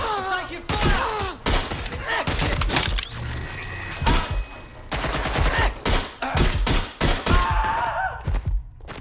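Rapid bursts of gunfire in Watch Dogs: Legion, loud and repeated, with crashing impacts and shattering between volleys and a voice briefly talking over the chaos.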